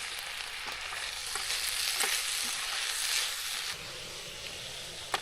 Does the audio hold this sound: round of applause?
no